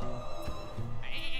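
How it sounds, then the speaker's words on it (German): Sheep bleating in the card game Hearthstone: two or three short, close bleats over background game music, with a brighter effect chiming in at the end. "noch ein Schaf?"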